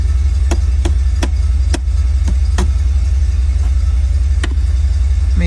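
A vehicle engine idles at around 800 RPM, a loud steady low rumble close by, punctuated by several sharp clicking or tapping transients at irregular intervals.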